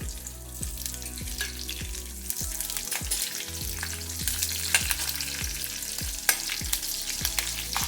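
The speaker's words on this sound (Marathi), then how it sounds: "बघा, फोडणीला जिरे घालते" Steady, close sizzling of cumin, green chilli and garlic frying in hot oil for a moringa leaf chutney, with a regular rhythm of stirring scrapes and taps throughout and no talking.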